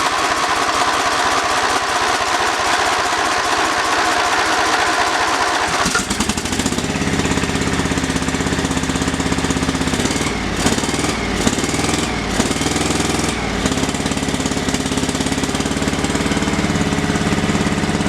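Quiet for several seconds, then a small trail mower engine sputters to life and runs loudly and roughly, revving unevenly before settling into a steady chug.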